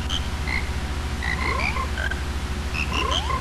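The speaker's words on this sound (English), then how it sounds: "talk to all the frogs that have gathered all in one place" Frogs croak in the Zelda: Majora's Mask video game, gathered in one mountain spot as spring arrives: several bright, pitched croaks in quick succession, two rising sweeps, and a steady low rhythmic pulse underneath.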